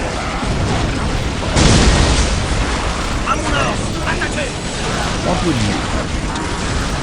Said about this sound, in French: On subit des tirs.